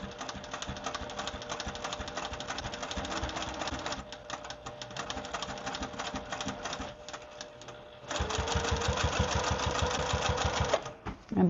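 A sewing machine stitches a quilt with light and dark threads, a rapid mechanical chatter that runs steadily, eases off briefly in the middle, then surges louder and faster before stopping.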